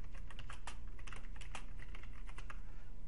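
Quiet, rapid clicking of a computer keyboard as someone types a new name for a file, with irregular keystrokes over a low background hum and no speech.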